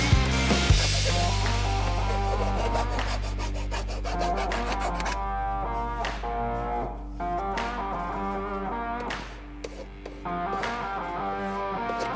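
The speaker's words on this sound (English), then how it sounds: "And don't forget to deburr, get rid of the edges, file it down" A file rasping the cut edge of a plumbing pipe to deburr it on a job site, with a loud, continuous scraping rub of repeated strokes close to the listener and no talking.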